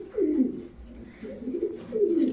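Pigeons coo softly and repeatedly nearby in a home loft of racing pigeons, low throaty rolling calls rising and falling in a steady rhythm, fairly quiet with no talking.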